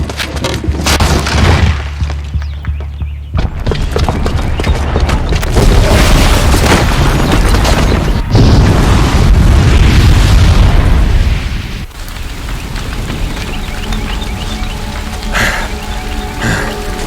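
A bomb detonates in the video game Horizon Zero Dawn, setting off a loud, sustained rumbling blast that rolls on with crackling debris and a second heavy surge before settling into a lower roar, with no talk.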